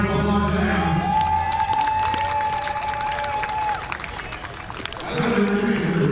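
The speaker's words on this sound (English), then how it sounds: "I would like to round of applause to them" Crowd cheering and applause at a baseball stadium welcoming a rhythmic gymnastics team onto the field, a broad steady roar of many people with a sustained tone over it, dipping briefly before swelling again.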